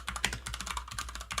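Rapid keystrokes on a computer keyboard, typing a search into Google, clicking in an irregular close-up rhythm for about a second and a half with no voice.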